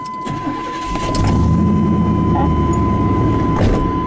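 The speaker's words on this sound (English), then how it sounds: "That's just a V8 engine." A V8 engine rumbles to life and settles into a loud, steady, throaty idle, heavy low-end drone close by with no talking.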